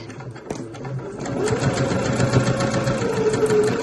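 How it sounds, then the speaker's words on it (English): A sewing machine runs a straight stitch along a tote bag seam one centimetre from the edge, starting with a few clicks and then settling into a steady, close mechanical whirr that holds to the end without talking. "sewing in 1 centimetre from the edge, straight stitch, back stitch at the beginning and the end"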